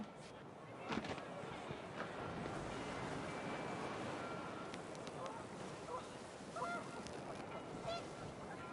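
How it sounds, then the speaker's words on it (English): Panicked geese honk faintly in What Remains of Edith Finch as wind picks up, scattered calls blending into a broad, rushing wash of wind noise. "The wind picked up, and panicked geese appeared and quickly went."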